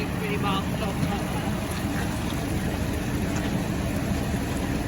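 Farm tractor running a slurry pit pump through its PTO, a steady low mechanical drone that holds without a break throughout, close and fairly loud.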